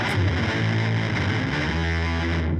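Electric guitar runs through an octave pedal stacked with a tube screamer preset, a thick, distorted sustained chord with a deep sub-octave layer, played close and alone before ringing out.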